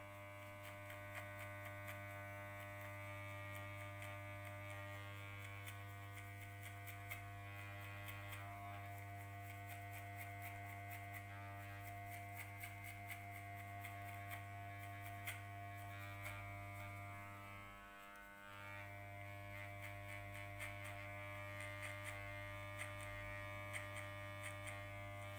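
An electric hair clipper buzzes steadily and close during a men's haircut, a constant tonal hum that dips briefly once midway, with no talk.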